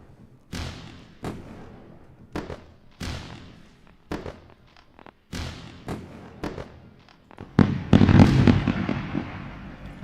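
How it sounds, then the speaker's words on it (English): Fireworks sound effect with a series of sharp, booming bursts spaced irregularly, followed by a dense crackling flurry near the end; loud and without speech. "I'm sure you would enjoy another round of fireworks."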